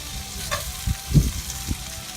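Steady sizzling of green beans frying in hot bacon grease, with a few louder pops and stirring knocks over the continuous crackle.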